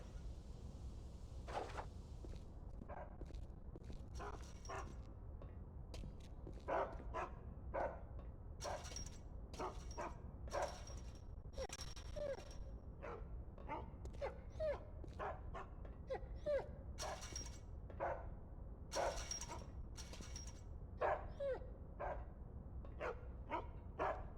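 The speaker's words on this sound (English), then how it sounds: "You hearing these dogs?" Dogs in a haunted-house video game keep up a long run of irregular barks, yips and whimpers, some overlapping, moderately near over a constant low background drone, with no talking.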